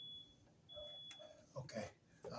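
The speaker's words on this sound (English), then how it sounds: "We got some beeping around here." A faint, high electronic beep sounds in long tones somewhere in an audio repair workshop, mixed with quiet handling clicks and bumps at low overall level.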